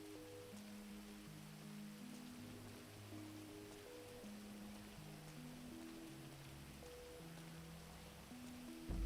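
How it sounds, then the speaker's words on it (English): Heavy rain pouring down in the FiveM game world, a steady hiss of drops on surfaces, fairly faint, with a low rhythmic tonal pattern beneath and no talking. "It's pouring down rain."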